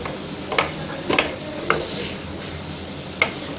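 Minced meat keema frying in a pan for stuffed green chillies, with a soft steady sizzle and a few sharp metal spoon taps and scrapes against the pan as the meat is broken up.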